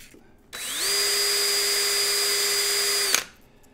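A power drill whirs up, holds a steady high spin for a few seconds, then stops, spinning a piece held in the chuck while it is polished with fine sandpaper.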